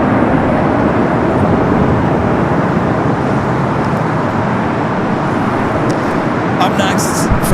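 An ANA airliner in Future Promise livery arriving at Los Angeles LAX from Tokyo Narita, a loud, steady jet roar that holds evenly for several seconds with a faint rising whine near the end.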